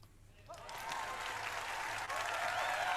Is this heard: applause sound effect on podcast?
yes